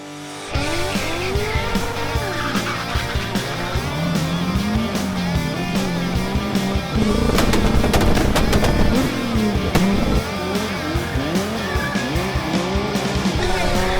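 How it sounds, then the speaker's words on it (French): A go-kart fitted with a motorcycle engine drifts around, its high revving engine rising and falling steadily while tires squeal and skid, louder in the middle section with rapid popping bursts. "Le karting à moteur de moto."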